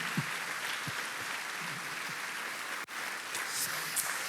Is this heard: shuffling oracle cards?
no